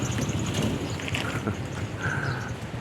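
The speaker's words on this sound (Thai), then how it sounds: "ฝนตกดีจริงๆเลยนะครับ" Heavy monsoon rain falls steadily over a town market in Sainyabuli, northern Laos, as a dense, even hiss with a faint gusty rumble, close by and with no voices.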